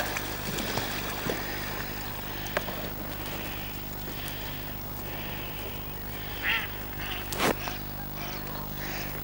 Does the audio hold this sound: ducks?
yes